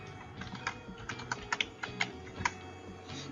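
Keys on a computer keyboard clatter in an uneven run of taps, a few louder clacks standing out among lighter presses, close by with no talk over them.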